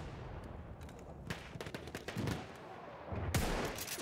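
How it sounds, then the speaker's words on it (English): Rapid gunfire from a Gore 95 marksman rifle in the video game Battlefield 1, a series of sharp reports with a louder burst near the end, heard without talk. "This is a highly underrated gun. I'm using the Gore 95 with the marksman variant."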